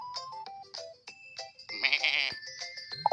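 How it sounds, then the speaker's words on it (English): A sheep bleats repeatedly in quavering, wavering calls, clearly up close with no talk over it, one longer bleat in the middle and shorter calls around it. "Let's see what this sheep sound like."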